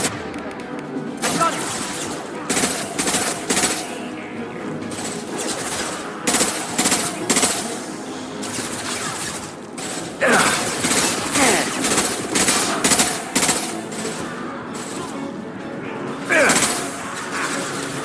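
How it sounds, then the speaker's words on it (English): Impact shot gunfire from the Mass Effect 2 video game, sharp repeated bursts and volleys of blasts firing in clusters across the scene with a busy combat backdrop and voices mixed in. "Firing an impact shot."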